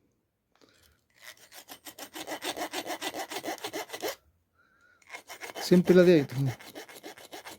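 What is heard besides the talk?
filing a groove in wire for crochet thread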